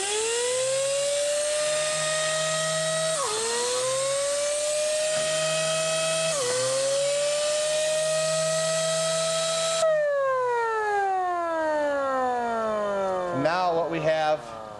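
A McKeegan chop saw's blade whines at a high pitch as it is lowered into the cut, its tone sagging and recovering in repeated dips under load before spinning down at the end, with a voice speaking over it.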